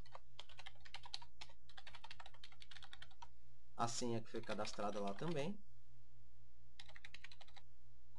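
Fast, light clicking of typing on a computer keyboard while an email and password are entered at a login screen, in bursts with a pause where a person speaks, then a final short run of keystrokes.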